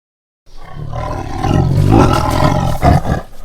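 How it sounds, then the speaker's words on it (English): A tiger gives a long, loud, rumbling roar alone, close and continuous for about three seconds, with a brief surge near the end. "Tiger."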